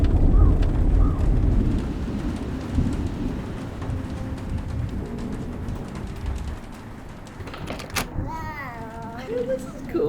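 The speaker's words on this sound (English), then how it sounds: "it is bucketing down with rain" Heavy rain bucketing down outside a parked van in mountain country, a dense continuous hiss and patter with low rumbling underneath and a voice speaking over it near the end.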